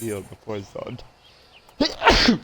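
A person sneezes once, sharp and close, a quick inhale then a loud burst, after a man's spoken line during a game session.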